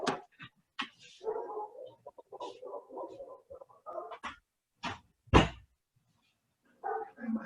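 A dog barks outside during an office meeting in short scattered bursts, mostly moderate and distant, with one louder, closer bark near the end and quieter gaps between.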